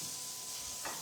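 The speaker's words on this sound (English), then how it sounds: "that's why the outside of the pan is sizzling more" Food sizzles in a pan on an AGA range cooktop, a close, steady hiss and crackle with a brief louder burst near the end.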